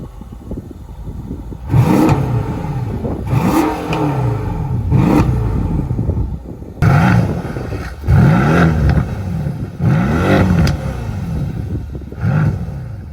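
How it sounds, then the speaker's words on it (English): Mercedes-AMG S63 and C63 S coupe exhausts revving, a series of sharp throttle blips that rise and fall in pitch, loud and close, repeated roughly every second or two with short idling gaps between. "So this is the battle of exhausts."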